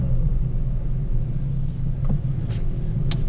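A 2019 Toyota C-HR with a 1.2 liter engine and six-speed manual rumbles steadily at low speed while backing up, a close, continuous low engine drone with a few faint clicks and no talk.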